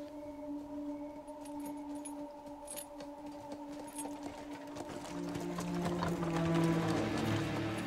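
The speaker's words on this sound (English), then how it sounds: "Jumpy horses are always a bad sign." Horse hooves clip-clop in the video game The Witcher 3: Blood and Wine, over a soft ambient hum with a sustained tonal drone, growing denser and slightly louder toward the end.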